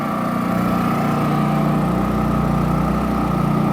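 Two Champion C4500iES GEN2 inverter generators running together under full load with economy mode off, a steady, loud mechanical drone with a constant hum and no pauses.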